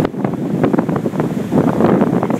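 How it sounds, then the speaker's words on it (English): Strong wind buffets the microphone outdoors, a loud continuous rumbling roar with gusty surges throughout. "that wind is so strong"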